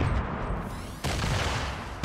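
Grenade blasts in a Fortnite battle come as dense booming bursts with crackling debris, two sharp onsets about a second apart over a continuous rumble, with no talk.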